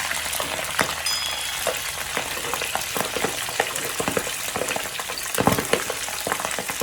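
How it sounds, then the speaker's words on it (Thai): Steady crackling sizzle of pork skin deep-frying in hot oil, with scattered louder pops and spits throughout, close and continuous. "เราจะทอดข้างหลังให้มันสุกก่อนนะครับ"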